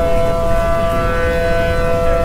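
A steady, wailing tornado siren in the Roblox game Twisted drones on continuously at high volume, with a low rumbling background underneath.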